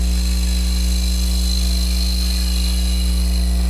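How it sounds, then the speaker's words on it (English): A woodturning lathe cuts a shallow cove with a Hunter carbide tool, giving a loud, steady motor hum with a constant tonal drone and an even scraping hiss that runs unbroken throughout. "Now I'm cutting a very shallow cove here."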